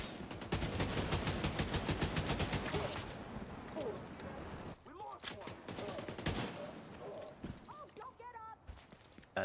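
Rapid bursts of gunfire from The Division 2 video game, dense and loud through the first half, then broken into scattered shots and impacts, with a player's voice talking over the action.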